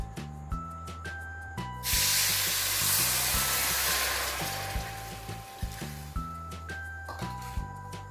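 Half a cup of water is poured onto half a cup of sugar in a pan for rava laddu, a rushing hiss lasting a few seconds over soft background music with steady tones.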